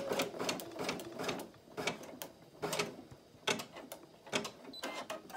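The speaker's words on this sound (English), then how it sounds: "There's the basting stitch." A Brother PE800 embroidery machine stitching a basting outline around a hooped bunny-ear design, with rhythmic mechanical needle thumps and whirring bursts close by and no talking.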